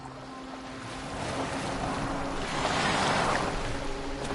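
A boat moving across open water in Assassin's Creed Valhalla: a steady, rushing wash of waves and wind against the hull, growing slightly louder partway through, with no talking.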